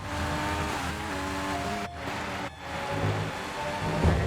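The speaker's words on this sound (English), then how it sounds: "I do love the Honda engine sound more than any other." A Honda Formula 1 engine in an F1 racing video game at the Austria GP track, a steady high-pitched drone that holds throughout, with two brief gear-shift dips and slight pitch changes as the car accelerates.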